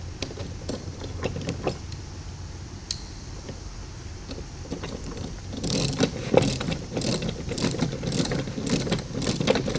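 Bolts holding the two hinges of a FlexQuad folding plate assembly being tightened, giving close, repeated ratchet clicks and metallic ticks, sparse at first and then denser and louder in the second half.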